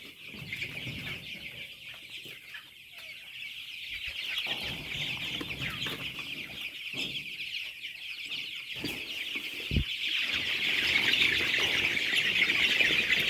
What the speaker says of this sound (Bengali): ডরাইতেছে মুরগিগুলো।